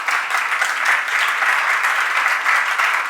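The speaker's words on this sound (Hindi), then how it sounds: "ये जो तुम ताली बजा करके अनुमोदना कर रहे हो" A crowd at a Jain monk's religious discourse in Delhi claps in approval, a dense, steady wash of applause that holds evenly and fairly loud throughout.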